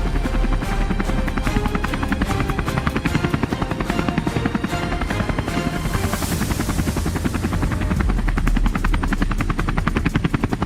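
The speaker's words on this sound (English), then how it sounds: "We boarded the compact helicopter and headed out toward the mist-covered fields." Compact helicopter in flight heading out over mist-covered fields for a wild boar hunt: close, loud, rapid rotor chop over a steady turbine whine, continuous and without voices.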